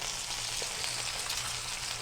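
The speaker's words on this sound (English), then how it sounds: "You hear that sizzling?" Pork loin browning in a hot pan gives a continuous crackling sizzle, steady and close, with small pops scattered through and no talking.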